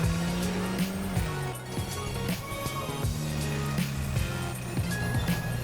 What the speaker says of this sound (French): on entend le moteur qui vibre, on entend des vibrations dans le véhicule